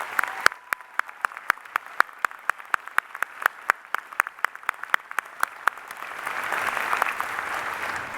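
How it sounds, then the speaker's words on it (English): A small scattering of people clapping at a St. Norbert College commencement ceremony, sharp separate claps at first, then building into fuller, denser applause toward the end. "would you please join me in a round of applause to thank our colleagues for their hard work?"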